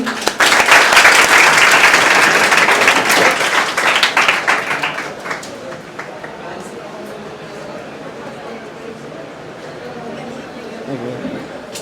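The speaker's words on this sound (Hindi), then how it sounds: "एक बार फिर से इनके लिए ताली" Clapping from a gathered crowd honouring students who passed the IIT Advanced exam, loud and dense for about five seconds, then thinning into murmured chatter and a few stray claps.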